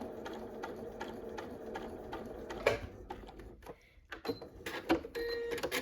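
A sewing machine stitching two quilt pieces together for a flying geese block, a steady mechanical whir of rapid needle strokes, then a pause and short bursts of stitching with small clicks, close and moderately loud, no talking.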